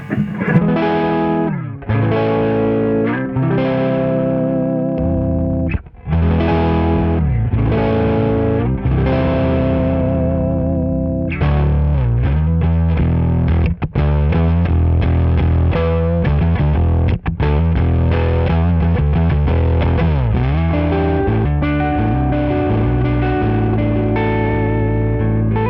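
A distorted electric guitar riff played dry without the KHDK Annihilator Octaver pedal, loud and continuous with chugging rhythmic chords and short gaps, no voices.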